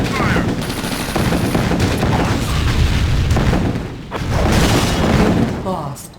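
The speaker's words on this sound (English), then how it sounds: "I'm taking heavy fire." Heavy gunfire and explosions in the PC strategy game Command & Conquer: Tiberian Sun Firestorm, loud continuous machine-gun bursts mixed with booming blasts, with a voice talking over the battle.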